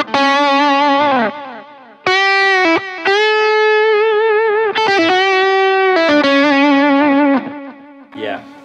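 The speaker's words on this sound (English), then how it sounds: "with the drive on and kind of a high drive setting, this might be something that I would use for a lead sound" Electric guitar lead tone through a digital delay pedal with a high drive setting: sustained distorted notes and bends in separate phrases, each with echoing repeats trailing off, loud and alone.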